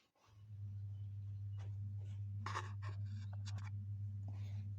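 Pen scratching on paper while a maths solution is worked out, with several short scribbled strokes over a steady low electrical hum, close and faint.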